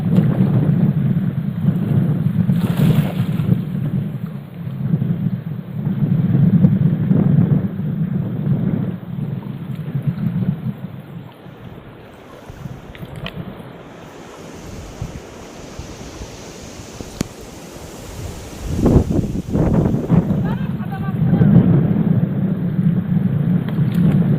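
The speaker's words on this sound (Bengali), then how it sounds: "এত হাওয়া" Strong wind gusts roar across the microphone during a thunderstorm beside a river in the Sundarbans, with loud, rushing surges that ease and build again over the whole stretch.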